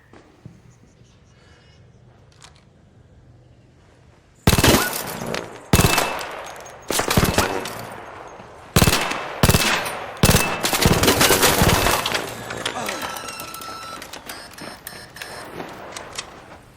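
Bursts of gunfire in the extraction shooter ARC Raiders: after a quiet stretch, loud rapid volleys and single shots crack out in clustered bursts, with a lighter tail of scattered shots and game sounds at the end.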